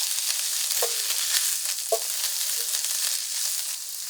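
Escarole sautéing in a pan, a continuous close sizzle with a few soft clinks of a utensil against the pan and no talking.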